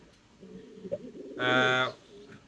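Fancy pigeons coo at a pigeon farm in Natore, a short burst of close, loud cooing after a stretch of quieter birds and low background sound.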